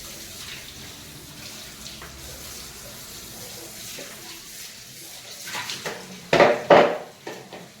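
Water runs steadily from a tap, with a few louder splashing bursts and faint clinks near the end.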